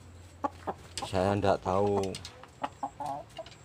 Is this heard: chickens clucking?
yes